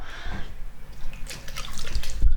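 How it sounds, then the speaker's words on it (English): Water splashed onto a face from a sink during a skincare routine, close dripping and splashing in irregular bursts that grow slightly louder toward the end, with no talking. "So I just literally put the water over my face."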